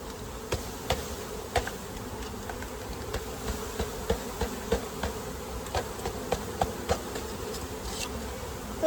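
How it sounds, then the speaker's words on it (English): A swarm of honey bees buzzes continuously around a newly installed hive in a bee yard, a dense steady hum with sharp ticks and knocks scattered throughout. "And that's a lot of bees,"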